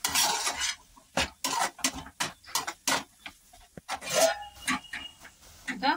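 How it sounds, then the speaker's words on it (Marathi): Potato bhaji with green masala is stirred in a pan, with a spatula scraping and clinking in quick irregular strokes over a faint sizzle, close by and with no voices. "त्याच्यात आपण हिरवा मसाला टाकूया आणि याला थोडी वेळ असं परतून घेऊया चांगलं"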